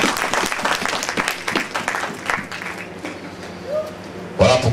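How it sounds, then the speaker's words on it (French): A church congregation applauds steadily through several seconds, clapping dense and fairly loud, with a brief voice or tone near the end. "Applaudissons le Seigneur Jésus-Christ"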